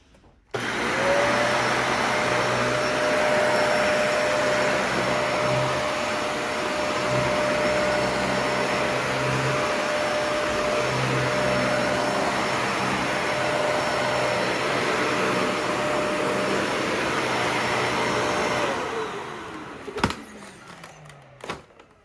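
A Dyson Ball vacuum cleaner with replaced filters runs steadily on carpet, a loud continuous motor whine and airflow roar that holds for about nineteen seconds, then winds down and cuts off near the end.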